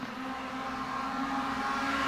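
Roadster race cars roar past on a circuit completing the first lap, a steady, loud engine whine that swells slightly as the field goes by.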